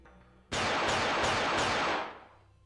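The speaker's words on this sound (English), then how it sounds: "As gunshots rang out, the police officers shown in the video were shot to death, one by one." A rapid burst of loud gunfire in the video game Collar x Malice, four sharp shots in quick succession, ringing out into a fading echo.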